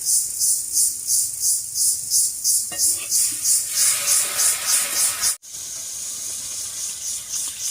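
Water is poured into a pan of simmering magur fish curry with potatoes, a steady rushing hiss over the bubbling that shifts partway and then stops abruptly, leaving a softer sizzle.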